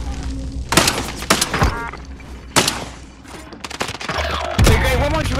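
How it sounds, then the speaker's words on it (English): Loud gunfire and heavy impacts in a Call of Duty Warzone battle, sharp close shots and booming hits spread irregularly across the moment, with shattering bursts and rumbling noise between them. "Taking fire."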